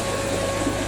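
Swimming pool filter pump running during a backwash, a steady, even whirring hum with a sustained tonal whine and no pauses or voices.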